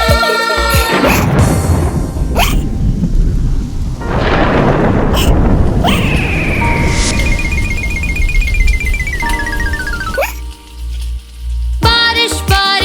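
Rain and thunder effects in a Haryanvi children's song: loud rumbling thunder and crashing rain fill most of the clip, mixed with whooshing and descending whistle-like cartoon effects.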